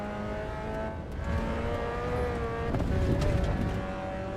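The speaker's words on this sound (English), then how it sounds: "Love that sound when you clatter a curb like" A race car engine in the video game Assetto Corsa EVO drones and revs in steady tones, rising with a rough rattling burst midway as the car bounces over a curb.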